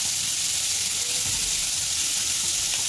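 Garlic and onion fry in a pan, making a steady close sizzle with soft hissing and a little stirring, loud and unbroken throughout with no talk.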